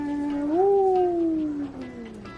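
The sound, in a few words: pet cat meowing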